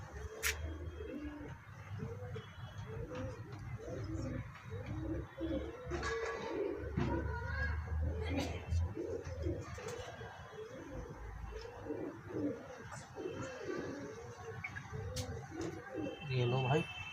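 Pigeons being vaccinated keep up a repeated soft cooing, a rhythmic run of throaty coos nearby, with a voice talking over parts of it.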